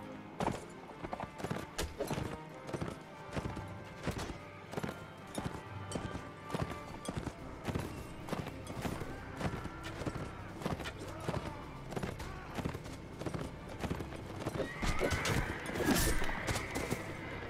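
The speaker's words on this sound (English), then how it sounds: "Is that my horse? There's my horse." In a Mount & Blade: Warband battle, horse hooves clop steadily and rapidly throughout, with a horse whinnying loudly near the end amid busy combat noise.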